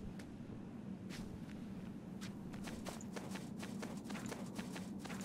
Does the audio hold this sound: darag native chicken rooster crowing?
no